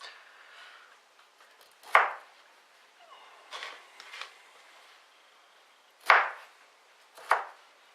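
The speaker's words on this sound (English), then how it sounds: "What we're going to do is we're going to cut some of these bigger pieces down a little bit so they blend nicely" Knife chopping broccoli pieces on a cutting board for a broccoli and watercress soup: four or five crisp, close thunks in an irregular rhythm, with quieter handling in between.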